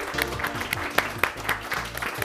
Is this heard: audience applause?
yes